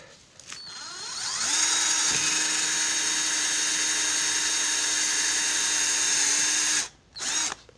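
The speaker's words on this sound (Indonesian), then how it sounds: "Kita bor." A steady, high-pitched electric drill whine runs for several seconds, boring into aluminium, then cuts off briefly and restarts with a short burst.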